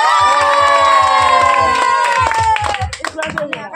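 Spectators at an outdoor ring-toss prize game clap in a quick rhythmic burst for a boy contestant, with children shouting and cheering over the clapping and a loud voice talking through it.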